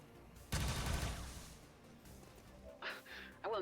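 Gunfire in the strategy video game XCOM 2 Long War of the Chosen, a loud close burst of shots followed by quieter game sounds and short effect chirps near the end.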